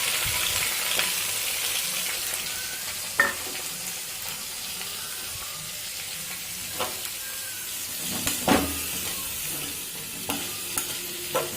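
Potatoes and onions sizzle in a pan with a soft continuous hiss while a spoon stirs and knocks against the pan in scattered clicks, nearby and with no talking.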